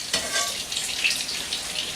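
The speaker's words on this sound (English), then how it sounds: "you know when it's ready to flip because you'll start to lose the sound of that sizzle" Fish fries in a hot skillet, giving a steady, close hiss of bright sizzling that runs without a break under light crackle.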